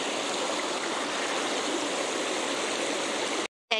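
Mountain river water rushing over rocks in a steady, loud, broadband roar that stays even, then cuts off abruptly near the end; no voices over it.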